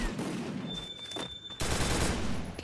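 MP40 submachine gun fire in the Free Fire video game, with rapid bursts of shots rattling close by in a short, loud stretch, the densest volley at the end.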